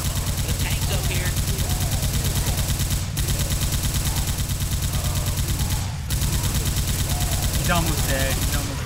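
Gunfire in Left 4 Dead 2 against the Tank rattles on in a loud, steady automatic stream for nearly the whole stretch, with brief pauses and game sound effects mixed in.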